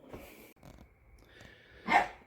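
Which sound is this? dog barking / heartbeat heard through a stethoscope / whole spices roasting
dog barking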